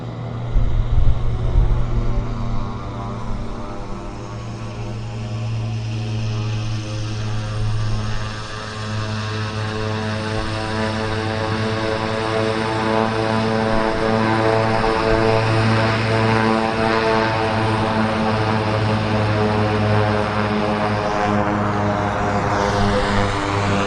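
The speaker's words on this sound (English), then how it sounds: "we've got the Summit Air ATR coming, ATR 42 coming in." A Summit Air ATR 42 turboprop arrives with a loud, steady propeller drone carrying strong humming tones, holding constant and close for the full length, slightly fuller near the start.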